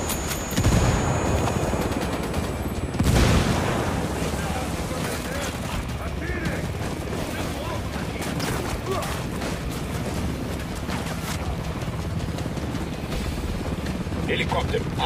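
Helicopter from the Ghost Recon video game, heard as a steady broadband rotor wash roaring through the whole passage, with sharp gunfire-like bursts near the start and game voices speaking over it.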